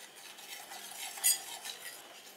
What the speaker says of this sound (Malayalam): ഇതെല്ലാം കൂടി നന്നായിട്ടൊന്ന് മിക്സ് ആക്കാം.